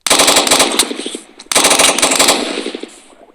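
Rapid automatic gunfire from a 3D gun mod in a video game, loud and close, in two dense bursts of fast repeated shots with a short gap between them and a fading tail.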